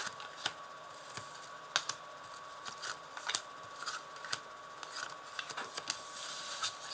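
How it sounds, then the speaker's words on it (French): Tarot cards being laid out on a table: quiet, scattered snaps and slides of cards, several soft taps and flicks at irregular intervals, close and faint, with no talk. "je vais placer 5 cartes"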